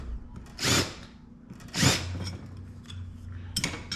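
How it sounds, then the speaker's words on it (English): A deburring tool is twisted against the cut end of a pipe in a few short, separate bursts of close metallic scraping, with quiet pauses between them and no speech. "Yes, I like the deburring action."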